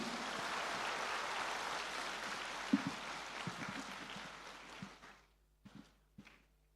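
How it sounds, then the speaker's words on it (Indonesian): Audience applause at an interfaith reception hosted for a visit by the Grand Imam of Al-Azhar, Sheikh Ahmed el-Tayeb: a dense wash of clapping that fades away toward the end, leaving a few isolated claps and footsteps. "Mohon aplaus yang meriah untuk kita semua."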